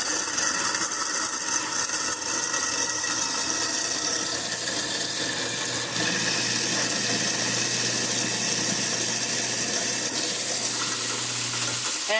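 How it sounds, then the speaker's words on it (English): Kitchen tap water runs steadily into a sink, a constant loud rushing splash that lasts throughout with slight shifts in tone, no talking. "Okay, have the water running."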